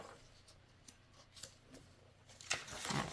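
Scissors snip quietly through a page from a magazine, a few faint, close cuts scattered over a few seconds with a slightly louder rustle of paper near the end.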